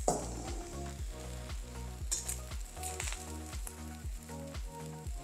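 Paneer fried rice sizzles in a hot pan while being stirred, with a steady crackle and frequent clinks and scrapes of a utensil against the metal, close and without voices. A faint rhythmic tonal hum runs underneath.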